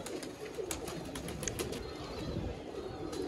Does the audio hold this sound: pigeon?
yes